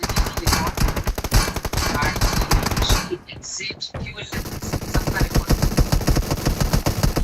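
Rapid automatic gunfire rattles through a video game team deathmatch in dense bursts, pauses briefly with a few scattered shots, then resumes with sustained loud fire.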